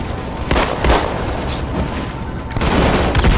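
Halo 2 multiplayer dual pistols firing in quick, loud shots with booming impacts, a continuous dense barrage of gunfire and blasts throughout.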